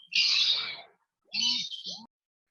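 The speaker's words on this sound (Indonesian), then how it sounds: "ini siapa ya yang suara burungnya kedengaran banget ya?" Birds chirp in an online participant's background during a livestreamed Maulid Nabi study session: two bursts of bright, twittering tweets with short warbled calls, fairly close and clear, with no talk over them.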